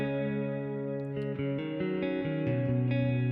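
Electric guitar played through the Plate Lush reverb on a Neural DSP Quad Cortex, a few sustained picked notes and chord changes with a long, lush plate-style tail, moderately quiet and alone.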